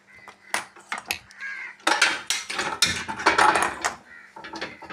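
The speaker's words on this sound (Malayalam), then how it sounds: "ഒരു ഉരുളി എടുത്ത് അടുപ്പത്ത് വെച്ചു ഇത് അതിലേക്ക് ഒഴിക്കുന്നുണ്ട്" Cooked vegetable pieces for Kerala koottucurry are tipped from a vessel into an uruli on the stove. Close metallic clanks and scraping come in irregular bursts, followed by a wet, busy pour.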